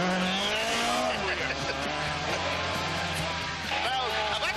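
A 1970s Ford Escort RS1600 Mk1 rally car pulling a handbrake turn, engine loud and close with rising and falling revs, tyres squealing as it slides, a voice talking over it.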